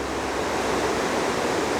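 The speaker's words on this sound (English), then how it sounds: "here again is the Middle Poposia River, or middle fork of the Poposia River" The Middle Popo Agie River rushes into the Sinks, a canyon spot where it disappears underground, making a steady, dense roar of flowing water that holds constant throughout.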